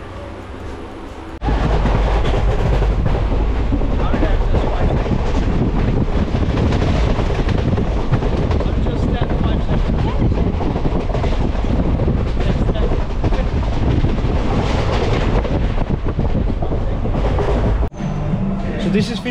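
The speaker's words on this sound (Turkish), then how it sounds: "Trendeyiz, gidiyoruz." A passenger train in India rumbles loudly and continuously along the rails, with heavy wind roar throughout and a brief quieter moment at the start and end.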